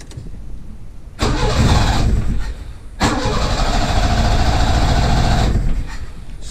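An old 1981 right-hand-drive Honda Accord engine cranks and struggles to catch, with two loud, rough bursts of cranking and sputtering separated by a short pause and no clean idle.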